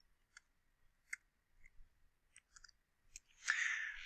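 Keys clicking on a computer keyboard during a math lesson on inequalities, several sparse, light taps spread out, ending in a brief louder rustle.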